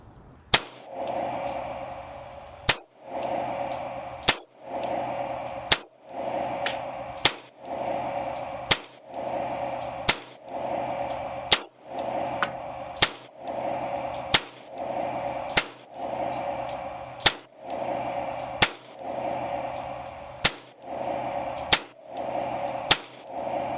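A Glock 45 pistol with Gen 5 parts and a Gen 6 barrel fires a long series of sharp, loud shots at a steady, moderate pace. Roughly sixteen evenly spaced reports ring out over about twenty seconds.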